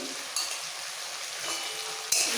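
Coriander leaf paste and tomatoes sauté together in a hot pan, giving a steady, close sizzle with a couple of brief louder bursts as the mixture is moved.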